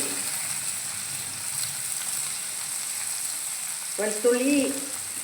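Onion and garlic frying in hot oil for a Kerala squid masala curry, giving a steady close sizzle with a brief louder stir or clatter of the pan near the end.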